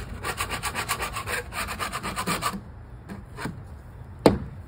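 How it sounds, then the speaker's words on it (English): A metal scraper rasps in quick repeated strokes over loose paint on wood for about two and a half seconds, then a few isolated scrapes follow, ending in one sharp knock. "the scraper like a jump on top of the loose paint"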